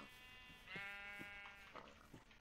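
A sheep in the video game TEN bleats in a single drawn-out wavering cry, faint and quiet, followed by a few soft knocks.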